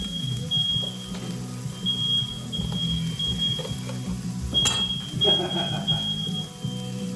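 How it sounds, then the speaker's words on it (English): A smoke alarm's steady high-pitched electronic beeping sounds repeatedly in bursts over background kitchen clatter and a low hum, moderately loud and close, set off while cooking braised smoked ribs. "And I set off the fire alarm."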